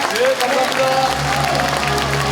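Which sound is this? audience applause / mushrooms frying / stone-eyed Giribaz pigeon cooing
audience applause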